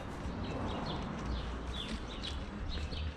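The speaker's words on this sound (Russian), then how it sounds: "Поют птички, классно." Small birds chirp outdoors in a seaside town, several short high calls scattered through a steady wash of loud broadband background noise.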